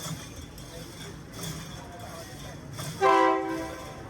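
A train rumbles by through a Bangkok market with a steady low noise, then a loud horn blasts briefly near the end.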